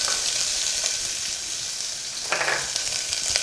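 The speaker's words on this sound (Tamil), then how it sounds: "இப்போ நம்ம கட் பண்ணி வச்சிருக்கக்கூடிய வெங்காயத்தை அதில் போட்டுடலாம்." Chopped onions sizzle in hot oil in a pan for moong dal sambar, a steady close crackling hiss with a brief stirring scrape, no voices.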